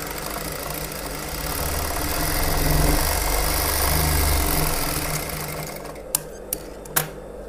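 Sewing machine stitching a straight seam along a folded fabric edge, a close, steady mechanical hum that swells slightly in the middle, then stops and is followed by a few sharp clicks.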